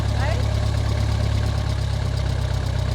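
Ford Model T engine running while the throttle is worked, a loud, steady low-pitched chugging throb close by, with a hint of voice over it.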